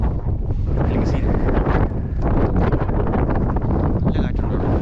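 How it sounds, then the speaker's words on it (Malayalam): Strong wind from a desert dust storm in the UAE, buffeting the microphone during a motorbike ride as a loud, continuous roar with gusts; a voice is briefly heard. "ഓ പൊടിക്കാറ്റാണ്"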